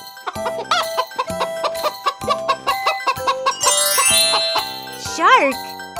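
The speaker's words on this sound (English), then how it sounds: "Chicken." A chicken clucks in rapid rhythmic bursts with a high squawking call near the end, close and clear, alongside a tinkling jingle.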